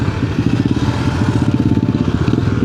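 Off-road motorcycle engine rumbling past at a camp in Rawa Cangkuang, a loud, close, throbbing low growl with a steady rapid pulse and no voices over it.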